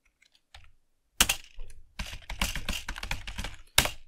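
Fingers type a Linux update command on a computer keyboard: a few isolated clicks, then a quick burst of close, dense keystrokes ending in a sharp final key press.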